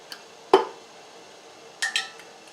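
A metal lid is set onto a glass canning jar of striped bass, making a sharp clink, followed by a couple of lighter metallic taps in a quiet room.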